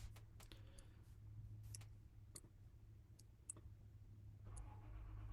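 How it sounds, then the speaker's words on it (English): Faint scattered clicks of computer keyboard typing during a remote coding session on a contributor bot, irregular taps spread through the clip over a low steady hum. "I can hear him typing"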